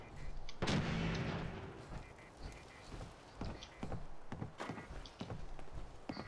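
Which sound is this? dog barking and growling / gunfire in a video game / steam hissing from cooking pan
gunfire in a video game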